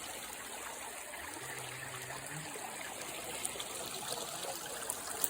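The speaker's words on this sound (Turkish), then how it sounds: "Akan bu dere aynı zamanda içme suyu olarak kullanılan bir dere" A mountain stream used for drinking water flows in a continuous, even rush and trickle, heard close by and unbroken throughout.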